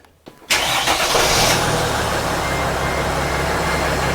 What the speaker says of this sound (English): So now let's go in the vehicle and start the engine.